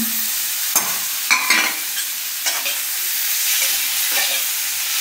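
Chopped tomatoes sizzle in a hot pan for egg butter masala, with a steady frying crackle broken by a few scraping stirs of a spoon.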